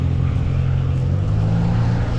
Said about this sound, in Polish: Widzicie to auto za mną? Słuchajcie, że to jest Opel Corsa?